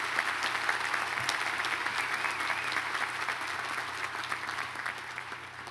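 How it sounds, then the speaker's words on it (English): Sustained crowd applause for the graduating Eckerd class of 2015 at a commencement ceremony, a dense continuous wash of many hands clapping with a low hum underneath, holding steady before easing slightly. "let me take just one moment just to celebrate and applaud the Eckerd class of 2015"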